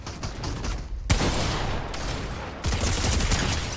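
Combat SMG gunfire in Fortnite Zero Build comes as dense rapid bursts, loud and close, with a brief gap before a second sustained volley. Other game noise sits underneath and no one speaks.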